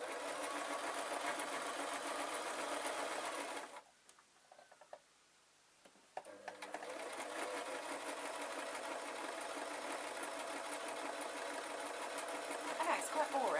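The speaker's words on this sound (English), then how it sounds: "and then I'm just sewing" A domestic sewing machine hems a fabric travel pillow with a steady rapid ticking stitch. It pauses for about two seconds in the middle, then runs again, close and continuous.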